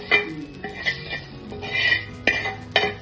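Spoon stirring browned fried onion into a cooking pot for a Maharashtrian masvadi rassa curry, giving several scraping clinks of utensil against metal in uneven strokes, close and moderately loud, with no talking.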